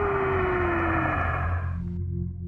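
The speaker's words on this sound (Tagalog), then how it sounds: "Do you hear that? That whistling sound?" An eerie whistling tone over astronauts' communication headsets glides slowly downward above a thick, constant hum, then thins out and fades near the end.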